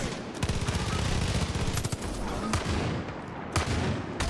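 Rapid gunfire in the video game Far Cry 5, dense bursts and repeated shots rolling across the whole stretch with heavy impacts, loud and continuous with game noise underneath.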